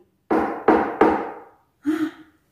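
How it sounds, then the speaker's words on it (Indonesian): Knocking on a door in a children's Sunday school story: three quick, firm raps in a row, then after a short pause one more knock carrying a faint tonal ring, all fairly close and with no talk over them. "Mereka mendengar suara ketukan pintu lagi"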